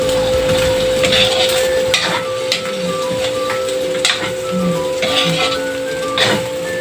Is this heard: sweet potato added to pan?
yes